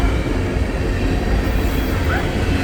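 A CSX manifest freight train with five leading locomotives and a mid-train DPU rolls past, giving a loud, steady, close rumble of wagons with no break in the noise.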